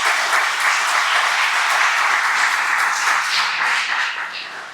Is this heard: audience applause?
yes